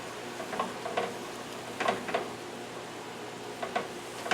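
Broccoli and carrots stir-fried on a stovetop: a soft, steady sizzle with intermittent clicks and scrapes from stirring, all fairly quiet and close.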